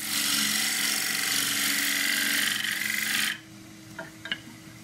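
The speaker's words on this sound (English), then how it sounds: "Use the skew, just undercut that slightly." A skew chisel undercuts forest sheoak on a spinning wood lathe: a loud, steady rasping cut runs for about three seconds, then stops abruptly, leaving a few faint knocks and clicks.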